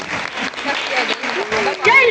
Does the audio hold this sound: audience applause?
yes